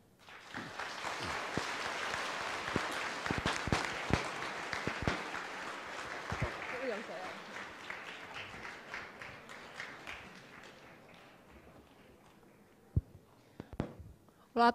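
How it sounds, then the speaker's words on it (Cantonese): Students at a Buddhist secondary school applaud a guest speaker at a celebrity talk, a sustained burst of clapping that fades gradually over about twelve seconds, ending in a few scattered claps and knocks. "咁同我俾多次熱烈嘅掌聲啦。"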